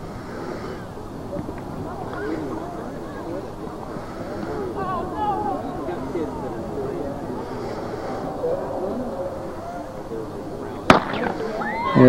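A starting pistol fires for a girls' race at a Saranac Lake high school track meet, a single sharp crack near the end heard at a distance amid constant outdoor crowd chatter and announcer talk.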